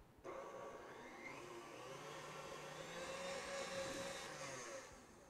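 Electric stand mixer beating cake batter for a giant cupcake, a steady whirring motor drone with a rising and falling pitch, close and continuous without any talking.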